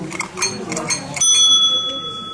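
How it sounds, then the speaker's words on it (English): A bicycle bell in a gift shop is rung several times in quick succession, ending in a long metallic ring that fades out. It is loud and close, with faint background chatter. "Look, I found a bike bell."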